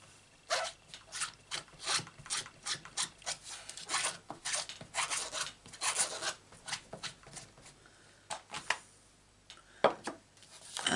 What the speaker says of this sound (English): And we're also going to cut that out by the shape of the words.